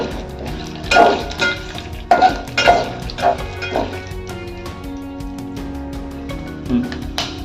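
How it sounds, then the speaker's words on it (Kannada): Urad dal, chana dal and peanuts roast in a pan while being stirred: loud scraping bursts come in a cluster early on, then softer stirring continues to the end. "ಉದ್ದಿನಬೇಳೆ, ಕಡಲೆಬೇಳೆ, ಶೇಂಗಾ, ಚೆನ್ನಾಗಿ ಹುರ್ಕೊಳ್ಳಿ."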